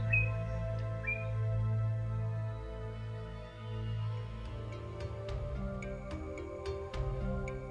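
Scattered high chirps and short whistled bird calls, including the toh (turquoise-browed motmot) of the Yucatán, over a steady low hum, with a few sharp calls standing out toward the end.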